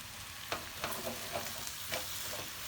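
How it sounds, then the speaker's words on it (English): Pepper paste and tomato paste sautéed together in a pan, a low, soft sizzle with a handful of spaced scraping strokes as the mixture is stirred, close by and fairly quiet, with no talking. "Just saute for a few seconds. Mix it well."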